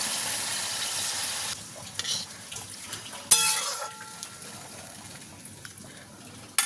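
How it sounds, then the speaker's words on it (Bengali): Water poured into spices frying in oil in a cooking pan, setting off a steady close sizzle with a sharp hiss partway through and faint utensil sounds, no talk. "এবার আমি এতে জল দিয়ে দেবো পুরো পরিমাণে।"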